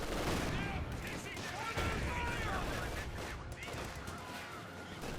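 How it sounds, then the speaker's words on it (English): A 40mm anti-aircraft gun fires in Company of Heroes 2 during a 2v2 match: dense, continuous bursts of rapid gunfire blend with loud, steady battle noise throughout. "getting sawed through here by the 40mm anti-aircraft gun"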